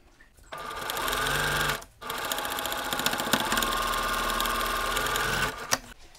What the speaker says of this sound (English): I can take a couple of stitches just to the outside and then veer back to my regular quarter inch seam